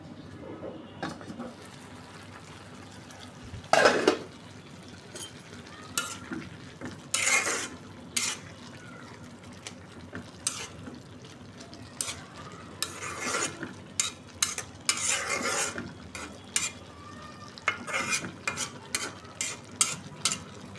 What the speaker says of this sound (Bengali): আলু ভাজিটা তো চুলায় বসাই দিছি